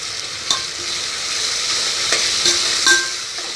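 Ginger garlic paste frying in oil for mushroom biryani, a loud, bright, continuous sizzle with a few soft scrapes from stirring.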